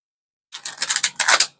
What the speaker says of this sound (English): Let me do a few good shuffles here.